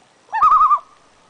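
A single eerie, wavering loon call rises and trembles briefly at close range, then fades into quiet.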